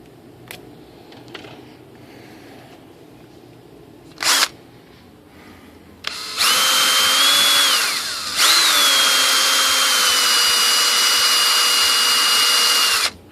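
A small power drill bit enlarges a hole in the rudder controls of a 2.6 m composite ASH26 model sailplane: a few light clicks, then a close, high whine for two seconds, a brief stop, and a steady run of about five seconds.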